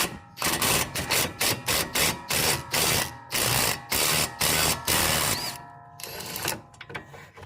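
Ratchet or impact tool taking out the last top bolt on a 2007-or-later Ford rear differential during an output seal replacement, rapid loud mechanical bursts in an even rhythm, then a brief metallic clink as it frees.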